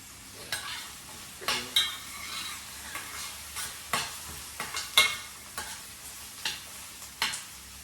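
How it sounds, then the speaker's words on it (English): Onions frying on medium to high heat: a soft background sizzle broken by about a dozen sharp scraping stirs of a utensil in the pan, close and fairly regular. "You want your onions to be brown and soft, so you'll make sure that you're cooking it into medium to high heat."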